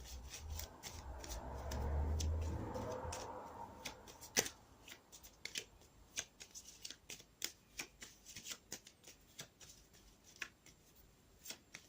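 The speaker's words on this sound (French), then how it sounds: "je vais tirer également une carte complémentaire de l'oracle Tzigane" Tarot-style oracle cards drawn from a deck during a cartomancy reading, heard as a soft shuffling rub followed by a steady run of crisp, close card flicks and taps.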